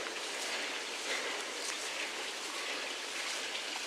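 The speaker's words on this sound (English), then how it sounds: "that's our main waterfall, and that aerates the pond for the fish and does a nice job of circulation" A garden pond waterfall that aerates and circulates water for fish makes a constant broadband rush of falling water, even and moderately loud throughout, with no speech.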